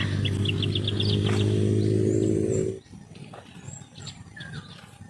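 Birds call over a vegetable garden of pechay plants in Lagonoy, Camarines Sur, a quick run of high chirps under a loud steady low drone that cuts off partway, leaving faint outdoor ambience.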